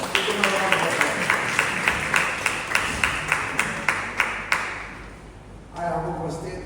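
Audience at an annual general meeting claps in a steady, sparse rhythm of distinct hand claps, fairly close, slowing and fading out before a burst of room noise at the end.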